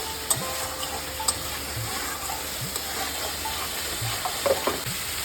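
Masala for palak paneer frying in oil in a pan, a continuous close sizzle with soft crackles and occasional scrapes of a spatula stirring at irregular intervals.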